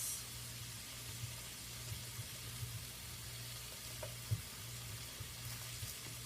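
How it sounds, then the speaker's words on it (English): Food sizzles steadily in a hot frying pan, a soft continuous crackle with a low hum underneath and occasional faint scrapes of stirring, quiet and close. "Give it another mix."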